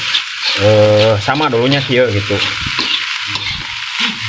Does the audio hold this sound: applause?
no